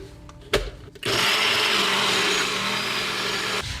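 A blender mixing homemade mayonnaise: a few knocks and clatters, then the motor kicks in with a loud steady whir that runs for about two and a half seconds before cutting off.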